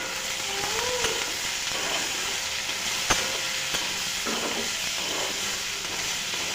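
Food frying in a wok with turmeric and salt is stirred, a continuous close sizzle broken by soft scrapes and a single sharp clack of the utensil, no talking.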